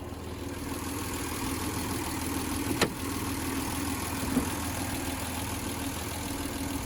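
A 1992 Honda NSX 5-speed with a 3-liter V6 and 116,659 miles idles steadily with a smooth, even drone, close and constant, broken by a single faint click partway through.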